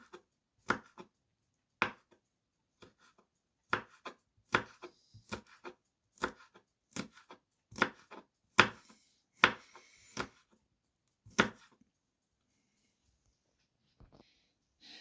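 A knife finely chops parsley and sprouted green onion on a board, giving sharp, irregular taps close by with quiet gaps between them.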